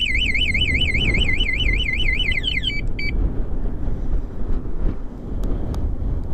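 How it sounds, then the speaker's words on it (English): A Black Dragonrider universal motorbike alarm system sounds loud, close-up, with a rapid warbling siren that rises and falls steadily for nearly three seconds before cutting off with two brief chirps, leaving a steady rumble of background noise. "so obviously the alarm works well."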